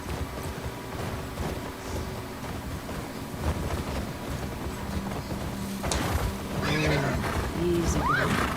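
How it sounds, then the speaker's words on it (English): A mare in a video game whinnies near the end, a rising, quavering neigh following steady hoof and ambient background noise, moderately loud and without talk. "this is my horse."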